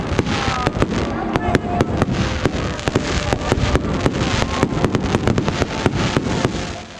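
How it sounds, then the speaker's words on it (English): New Year's Eve fireworks over northwest Indiana, a dense run of sharp cracks and bangs bursting irregularly across the whole stretch over a rumbling background. "Fireworks lit the sky of northwest Indiana."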